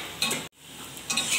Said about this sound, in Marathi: मीडियम आचेवर आपले गुलाबजाम आहेत चांगले ब्राऊन कलर येईपर्यंत तळून घ्यायचे आहेत